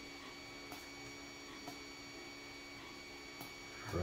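A malfunctioning 3D printer runs steadily in the background with a constant hum and tonal whine, marked by faint periodic ticks roughly every second and a louder shuffle at the end.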